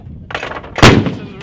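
An M119 howitzer fires during an artillery live-fire exercise, with one loud, sharp blast partway through that rings out with a rumbling tail. It follows a softer stretch of background noise.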